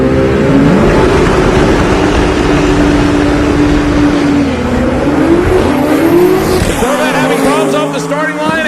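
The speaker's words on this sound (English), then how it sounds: "And he will stage up the 91 Toyota on the right hand side." A 1991 Toyota drag racing car roars loudly at the start of the strip, its engine droning steadily before a sharp change as it launches, while an announcer talks over it.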